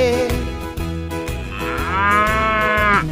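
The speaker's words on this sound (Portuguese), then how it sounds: "Boi verde, onde está você?" A cartoon ox lets out a single long moo that swells in the second half and cuts off sharply, heard close and loud over soft background music.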